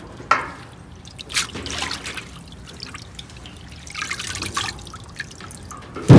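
Leafy greens are washed by hand in water, with close splashes, drips and trickles coming in uneven bursts and a louder slosh at the very end.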